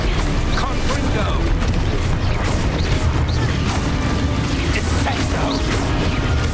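A Confringo blasting spell explodes in the video game Hogwarts Legacy amid a loud, constant wash of combat noise and crashing impacts with no pause.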